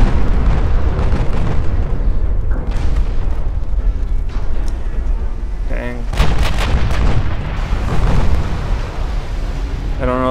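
Naval gunfire in the warship battle game Ultimate Admirals: Dreadnoughts, with dense, overlapping booming salvos and explosions rolling continuously, loud and close, with sharper cracking bursts near the middle and end.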